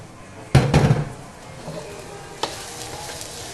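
Meat searing in a hot pan for Korean-style fried rice: a loud sizzle bursts in as it hits the pan, then settles into a steady crackle with a couple of sharp utensil knocks.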